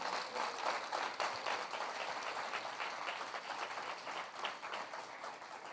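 A church congregation applauds during a sermon, giving a dense, even round of clapping that holds at a moderate level for the whole stretch.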